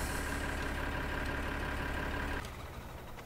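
A tractor engine idles in Farming Simulator 2013, a steady loud mechanical drone that drops to a quieter hum near the end.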